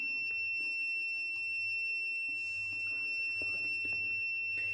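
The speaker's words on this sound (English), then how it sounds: "displays temperature rising, and buzzer makes sound" A buzzer on an ESP32 temperature monitoring alert system sounds a steady, continuous high-pitched tone throughout, held at a constant level over faint low background hum.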